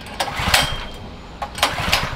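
A 6 hp high-pressure washer engine runs with its throttle eased back, a steady mid-range mechanical drone with periodic louder bursts, close and fairly loud, no talk.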